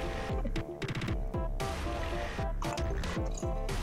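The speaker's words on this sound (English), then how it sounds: "Everybody pour your glue into the cup." Slime glue poured into a cup, a thick, gurgling stream with drips and soft glugs that comes in several uneven bursts.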